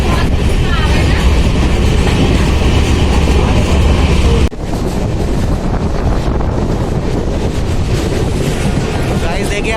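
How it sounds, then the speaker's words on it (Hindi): The Kota Katra Express races along mountain track at about 80 km/h, a loud, steady roar of wheels and rushing wind heard from inside the train, with a sudden shift in tone midway. "तो ट्रेन 80 किलोमीटर पर आवर चल पा रही है यार"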